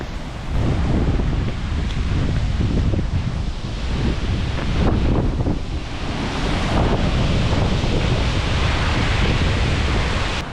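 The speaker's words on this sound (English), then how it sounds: "Some good waterfalls." Waterfall at High Force in winter, a steady loud broadband roar of falling water, continuous and close, mixed with gusting wind buffeting the microphone throughout.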